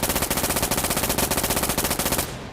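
An MP7 submachine gun fires in the video game Firefight. A loud, close, rapid automatic burst runs for about two seconds and then cuts off.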